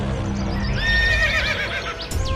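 A horse gives a long, high, quavering neigh that rises and shakes before trailing off, set in a Hindi cartoon story, heard clearly and alone over a soft background hum.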